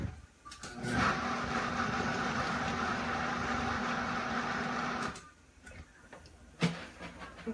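A blender whirs loudly for about four seconds as it chops cauliflower into rice, then cuts off, followed by faint knocks and a sharp bump as the jar is handled.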